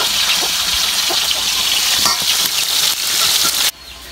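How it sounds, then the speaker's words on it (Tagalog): Grouper fries in a pan with a loud, continuous sizzle, broken by scraping and stirring noises, until the sound drops away sharply near the end. "Pinag-prito na may lapu-lapu."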